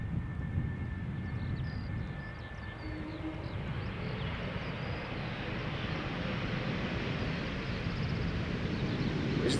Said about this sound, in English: This one is arriving from Barcelona, Vueling flight 8309.